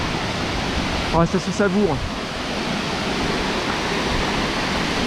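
A large waterfall plunging 60 metres from a high cliff roars steadily with a dense, continuous rush, while a voice speaks briefly over it.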